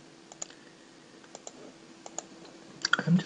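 Typing on a computer keyboard: faint, sparse key clicks in small pairs and clusters, close by in a quiet room, ending with a louder burst of taps.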